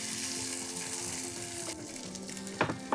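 Corn tipped into a pan of frying potatoes, onions and celery, giving a steady close sizzle with a brief stir-like clatter near the end.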